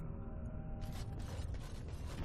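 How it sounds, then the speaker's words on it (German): A door creaks open in the Dragon Age Origins video game, a low mechanical groan that swells into a rough, grinding creak with ratchet-like texture, fairly quiet and alone. "Dann machen wir mal die Tür auf."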